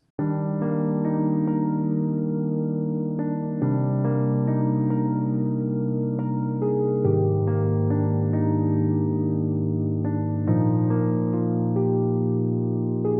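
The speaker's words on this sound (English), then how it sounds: "the bread and butter of this beat right now is this piano pattern." A looping piano pattern of sustained chords with a steady low bass line, clean and up front, playing on without any voices.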